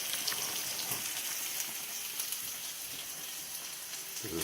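Cooked pasta being drained through a colander, a soft continuous patter and hiss of falling water, steady and fairly quiet with no talking.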